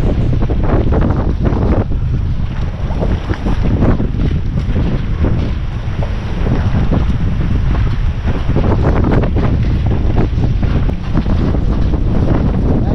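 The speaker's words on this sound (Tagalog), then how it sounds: "Grabe lakas ng hangin." Strong wind roars and buffets the microphone continuously, loud and gusty, over the rumble of a boat on the water.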